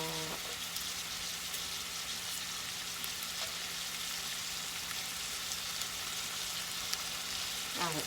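Onions sizzle and fry in a pot as the base for seafood rice, a steady, crackling hiss that runs continuously and fairly close, with faint clinks at the start and end.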